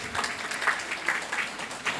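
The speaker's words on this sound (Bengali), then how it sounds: "করতালি দেবেন।" An audience at a stage event claps briefly, with scattered hand claps and a murmur of noise over two seconds.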